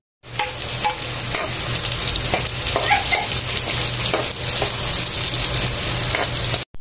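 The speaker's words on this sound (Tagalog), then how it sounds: "Ilalagay na rin natin yung bawang tapos halu-haluin lang natin" Garlic frying in a pan with ginger and being stirred, a loud steady sizzle with light scraping of the spatula throughout, close up and without talk.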